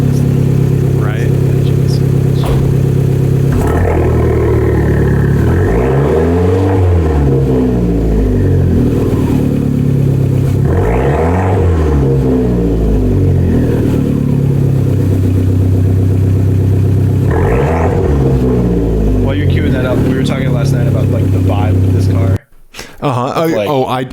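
A Fiat Abarth car engine idling loudly up close, then revving hard in three rising and falling bursts, with a brief cut near the end.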